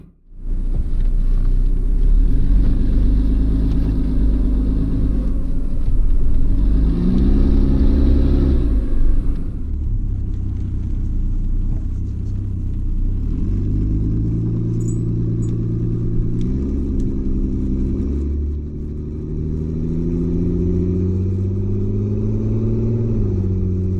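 Car with a turbocharged Mercedes M104 engine driving on the road: a loud steady engine drone rises and falls through several gear changes, heard alone with no talking.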